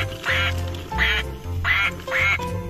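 A duck quacks in four loud, raspy bursts at a steady rhythm, each lasting about half a second, close by and alone.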